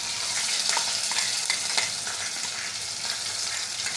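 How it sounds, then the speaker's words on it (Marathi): Thecha chili masala with curry leaves frying in a pan for kat vada, a steady close crackling sizzle with bursts of spatula stirring and scraping, no voices. "हा चांगला भाजून घ्यायचा मसाला आपल्याला"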